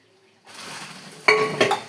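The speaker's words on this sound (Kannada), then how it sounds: "ಇದನ್ನ ನೋಡಿ ಕೇಕಿನ ಪಾತ್ರೆ ಇದೆ ನನ್ನ ಹತ್ರ" A metal cake pan is handled, with clanks and clinks following a short silence, two sharp knocks standing out above a soft rustle.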